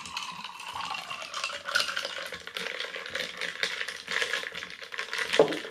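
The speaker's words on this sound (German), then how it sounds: "Ich verrühre den ganzen Spaß" A cocktail being stirred with ice while being topped up with ginger beer, with a steady run of clinking and rattling that carries on throughout, close and fairly loud, with no talking.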